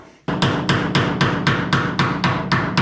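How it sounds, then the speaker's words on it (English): Hammer blows on a chisel cutting out a rusted steel sill on a Holden HQ, a rapid, even series of about ten sharp metallic strikes with ringing decay, close and loud. "Let's just keep chiseling it away."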